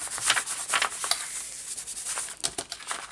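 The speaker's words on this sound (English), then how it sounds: "Now I'm rubbing all the ways over here." Glued paper pages of a junk journal being rubbed by hand, a close dry swishing and scratching in short repeated strokes, no talking.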